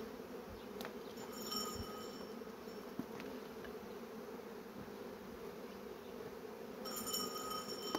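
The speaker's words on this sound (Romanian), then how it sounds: "Toată albina acum vine pe mine" Honey bees buzz steadily around a beekeeper working an opened hive after overwintering, a continuous close, moderately loud insect drone that holds for the whole stretch without talk.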